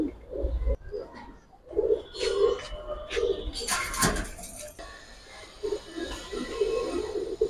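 Giribaz pigeons coo in repeated low, throaty bursts among other birds, with clattering and a brief noisy rush partway through, close and moderately loud.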